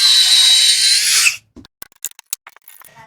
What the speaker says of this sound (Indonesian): Kita coba untuk pengeboran besi ya teman-teman ya.